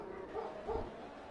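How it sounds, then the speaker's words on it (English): A dog barks faintly somewhere in the house, two soft muffled woofs in quick succession heard from a distance. "Yeah, that's my dog. He is barking at something"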